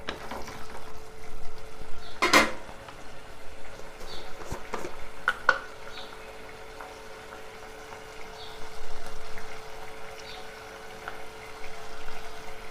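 A pan of ridge gourd curry with egg, stirred after chili powder goes in, giving a soft scraping, sizzling mix with a few sharp spoon clinks against the pan.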